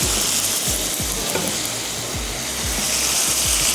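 Butter heating in a pan on a stovetop, a close, loud, continuous sizzle and crackle with low thumping knocks throughout, no speech over it.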